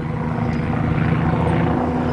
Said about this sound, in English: A helicopter landing at the airport.